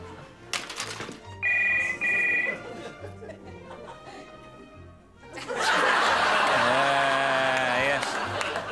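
A telephone bell rings twice in short bursts over a comedy show's background sound, followed by loud audience laughter.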